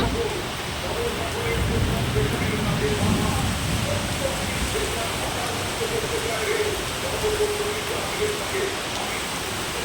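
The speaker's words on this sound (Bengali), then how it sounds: "তো দেখুন কি জোরে বৃষ্টি হচ্ছে।" Heavy rain pours down steadily, a dense continuous hiss and patter throughout, with faint voices beneath it.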